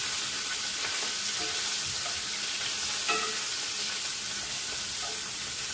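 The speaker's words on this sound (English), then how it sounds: "I'll give it a stir." Honey shrimp stir fry sizzles steadily in a hot pan, with occasional faint clinks and scrapes from stirring, and no voices.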